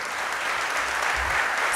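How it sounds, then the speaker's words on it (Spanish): A convention crowd gives a loud, sustained ovation welcoming a former president, dense applause that holds steady from start to finish. "Recibamos con un fuerte aplauso al expresidente"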